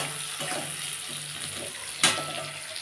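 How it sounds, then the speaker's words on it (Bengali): Onions frying in a pan for a Bengali spicy fish curry give a steady broadband sizzle, with soft stirring scrapes throughout and one brief louder crackle near the end. "পেঁয়াজটা আমি এবার ভাজবো।"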